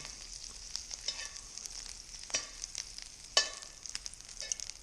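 Shrimp frying in a pan for fried rice, giving a steady, close sizzle with a few sharper spits and pops scattered throughout, and no voices.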